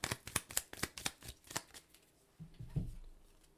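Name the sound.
shuffling tarot cards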